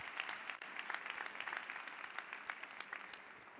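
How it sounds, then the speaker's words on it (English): Audience applause at an awards ceremony honouring Arab women, a steady spread of many hands clapping at moderate level for the whole stretch, with no voices over it. "I would like just to have another round of applause"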